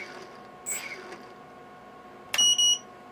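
A small drone beeper on a FlexRC Frog 120mm brushless build gives short high-pitched beeps near the end, heard over a faint background hum with a soft click earlier.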